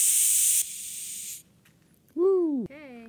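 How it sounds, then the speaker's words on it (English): Fizzy fermented pineapple beverage, tepache, releases a loud, steady hiss of escaping carbonation for over a second, then fades to quiet before a person lets out a sliding, excited exclamation. "Hey, it's fizzy."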